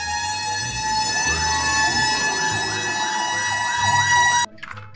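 A toy fire truck's electronic siren wails in a repeating rising-falling pattern, loud and close, steady until it cuts off abruptly near the end, followed by a few faint handling clicks.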